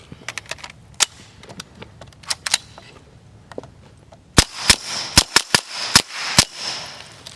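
An Israeli kit-built Uzi fires a series of gunshots, first scattered and sharp, then a louder cluster of closely spaced cracks, each short and snappy with some room echo.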